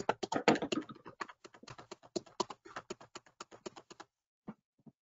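Someone typing on a computer keyboard, quick irregular bursts of close key taps for about four seconds, then a couple of isolated presses after a pause; no talking.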